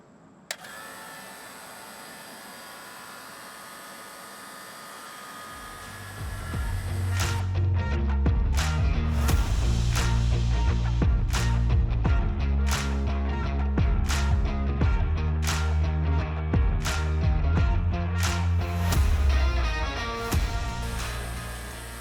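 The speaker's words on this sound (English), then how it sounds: "So let's turn the vacuum pump on." HVAC vacuum pump switched on at a mini split heat pump installation: a click, a quiet hum, then from about six seconds a loud, steady motor drone with a deep rumble and repeated sharp clicks and taps nearby.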